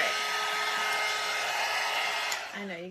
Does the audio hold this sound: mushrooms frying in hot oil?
no